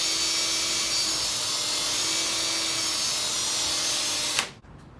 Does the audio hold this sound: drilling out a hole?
yes